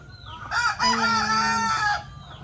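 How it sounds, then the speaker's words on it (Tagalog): A rooster crows loudly once, a long drawn-out call that rises and holds, with soft clucking before and after it. "Ayan ang manok."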